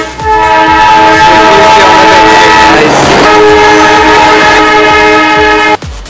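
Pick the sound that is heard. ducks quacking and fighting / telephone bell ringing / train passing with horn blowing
train passing with horn blowing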